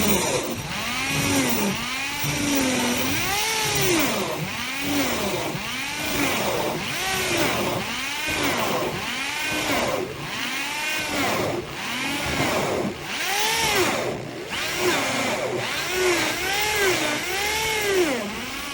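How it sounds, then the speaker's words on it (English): Hole saw driven by a power drill cutting through a closet door for a handle, a loud continuous whine rising and falling in repeated arcs as the bit bites and eases, close and alone. "you just put your hole saw into the template, and then you start drilling"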